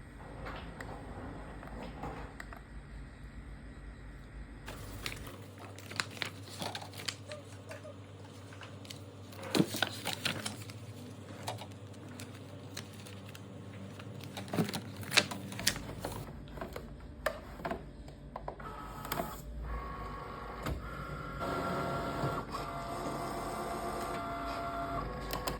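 Cricut cutting machine cuts a red iron-on vinyl heart shape, a soft whirring carriage motion with scattered clicks and faint motor hum throughout, fairly quiet and steady.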